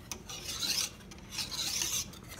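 Creamy corn and cheese mixture for maja blanca is being stirred in a pan, producing rhythmic rasping scrapes that swell and fade in two close strokes.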